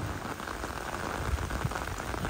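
Steady rain falls on a rainy day in Sertã town, Castelo Branco, Portugal, a dense, even hiss of drops hitting surfaces close by, continuous throughout with no talking.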